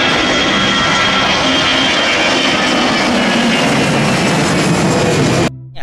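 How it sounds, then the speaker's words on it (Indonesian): Steady, loud toy airplane engine sound with a whining high tone, continuous for several seconds, then cutting off abruptly at the end. "kita terbangkan pesawat terbangnya."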